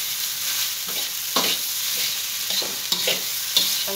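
Spicy fried rice is stir-fried in a pan, a continuous close sizzle broken by repeated scraping and tossing strokes of the spatula, with no voices.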